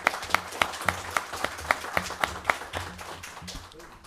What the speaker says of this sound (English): So another big round of applause for both Beta clubs